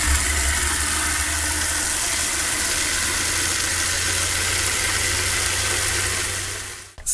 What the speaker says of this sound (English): now I'm going to fill the bucket up here with water.